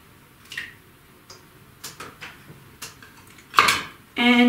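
Egg stirred into melted butter and brown sugar in a bowl, sparse light clicks and taps of a utensil against the bowl, quiet and close, ending in a louder scrape.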